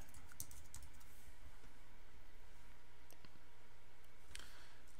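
Typing on a computer keyboard while writing a short product description for donuts in an online store, a steady run of soft keystroke clicks with a few sharper taps, alone at moderate level over faint background hiss.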